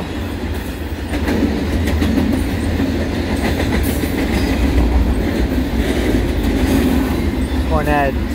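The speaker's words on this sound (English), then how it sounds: "One had three locomotives at the head end, all CN, normal paint schemes." CN intermodal freight train passing close by with a steady, loud rumble of wheels and rhythmic rail clicks, plus a brief squeal near the end.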